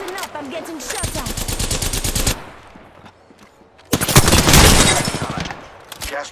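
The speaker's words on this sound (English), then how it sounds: "Listen up, I'm getting shot at." Rapid automatic gunfire in Apex Legends, an Alternator submachine gun firing in dense bursts, loud and close, with a short lull before another heavy volley.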